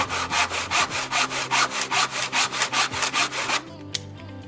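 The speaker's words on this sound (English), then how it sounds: "cut along that line so that the front fits neatly" Rapid, steady strokes of a hand saw cutting through wood for a birdhouse, a regular back-and-forth rhythm up close, ending abruptly with a faint clatter afterward.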